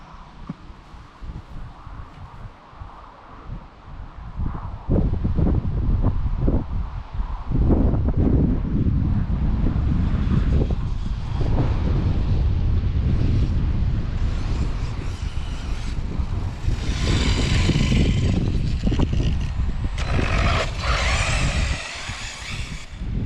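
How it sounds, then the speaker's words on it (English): Outdoors, wind buffets a microphone in heavy, uneven rumbling gusts that build and stay loud for most of the stretch, with no voices. "hopefully you can hear me with the wind"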